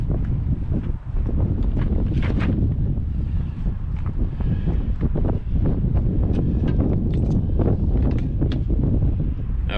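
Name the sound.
wind blowing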